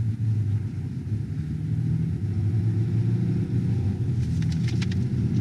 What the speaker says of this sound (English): we are in a Ram 3500 regular cab HO